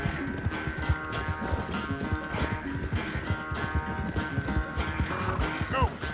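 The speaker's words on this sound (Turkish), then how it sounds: "Oğlum Arap atı." An Arabian horse gallops in Red Dead Redemption 2, its hooves pounding in a steady, rapid clip-clop rhythm close up, with a brief whinny near the end and faint game sounds underneath.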